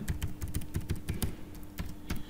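Someone types an email address and password on a computer keyboard. The close, crisp keystrokes come in quick irregular bursts with brief gaps between them.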